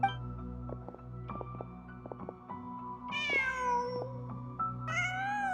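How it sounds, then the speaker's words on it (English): A cat in the video game Genshin Impact meows twice, clear drawn-out calls over a steady background music score with sustained tones. "Just a cat."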